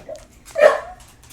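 Household dogs barking as someone arrives home, one prominent bark in the middle with fainter yips around it, heard indoors from another room.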